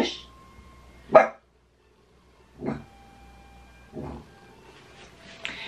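A dog barks in short separate bursts, four or so spaced across a few seconds, fairly close and loud against a quiet room, with no talk over it.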